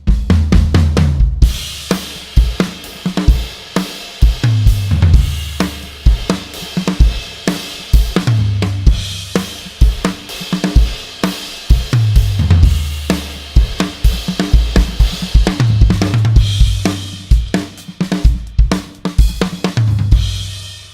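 A drummer plays a full kit in a song groove, hitting through the cymbal with the stick, giving steady, loud, washy cymbal strikes over punchy kick and snare in a continuous driving rhythm.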